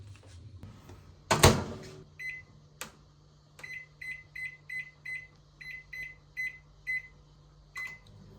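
A microwave oven hums steadily after a door clunk, with a string of evenly spaced electronic beeps; no talking.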